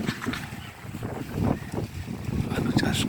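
Gusty wind blowing over a potato field under cloudy, stormy weather, a loud close rumbling buffet that swells and fades across the mic, with a voice faintly underneath.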